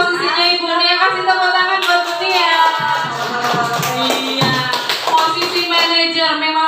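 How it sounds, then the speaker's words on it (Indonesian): Clapping for Ibu Nia at a women's gathering, mixed under continuous talking voices for the whole stretch. "Kasih tepuk tangan buat Bu Nia."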